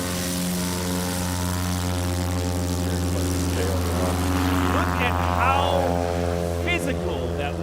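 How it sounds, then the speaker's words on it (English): A STOL propeller airplane taxis on a hard surface at a Music City STOL event in Gallatin, Tennessee, its engine a steady harmonic drone with a rising whine as it passes, while people talk over it. "Colonel Peterson taxiing by on the hard surface"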